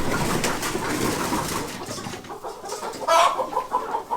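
Several newly delivered, frightened hens cluck and squawk nervously close by in their enclosure, with scattered calls over a rustling farmyard background.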